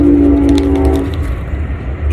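A train passes nearby as a loud, steady broadband rumble, with a sustained horn-like tone over the first second before it fades into the continuing roar.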